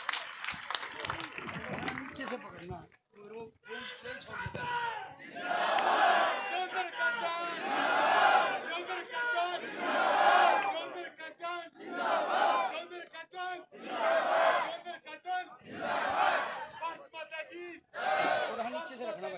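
Crowd at an outdoor political rally in a village near Gannaur, Haryana, applauding and cheering in repeated loud swells, with voices and shouts mixed throughout.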